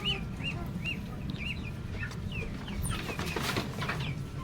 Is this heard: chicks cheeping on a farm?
yes